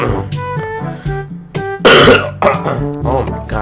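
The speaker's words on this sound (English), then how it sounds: "Oh my gosh, I had a cough." A person coughs and clears their throat during a Black Ops 3 gaming session, several short harsh bursts spread over a few seconds, close and loud, with no speech.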